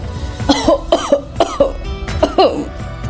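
A person coughs in a quick run of harsh, close hacks, several short bursts in a row.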